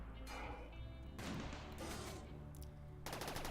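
Side turrets on a tank in Rimworld fire in rapid automatic bursts, with dense clattering gunfire alternating with short pauses and a loud, continuous volley that fills the whole stretch.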